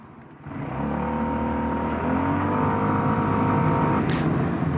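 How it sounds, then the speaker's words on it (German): An SYM Maxsym 400 scooter accelerates from standstill to 60 km/h, its engine note starting after a brief quiet moment and then climbing steadily in pitch, loud and close, with a smooth rising whine and no speech. "So, ich mache mal kurz eine Beschleunigung von 0 auf 60."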